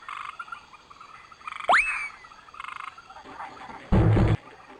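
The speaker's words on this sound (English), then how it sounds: "Here's a frog, so let's hear her story." A single rising, chirping frog call from The Magic School Bus rainforest computer game, heard clearly against a faint ambient jungle bed, followed by a short burst of louder noise near the end.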